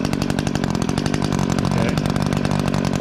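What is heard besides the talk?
small Echo two-stroke engine running after choke off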